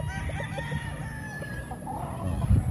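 A rooster crows on a chicken breeder's large farm, its call rising over a steady bed of clucking hens and soft barnyard rustle, fairly close and moderately loud.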